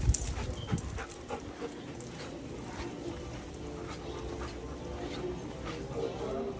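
Reactive dog during heel and focus training, soft whimpers and steady panting close by, with a few yips early on and people talking now and then.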